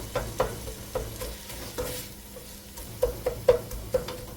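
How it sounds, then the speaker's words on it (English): A spoon scrapes and clacks through taco pasta with onions in a metal pan, close by. A soft sizzle continues underneath while irregular scraping strokes cluster toward the end, and no one speaks. "So I'm just stirring this up and also breaking it up also to break up the onions."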